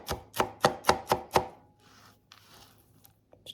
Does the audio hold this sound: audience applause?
no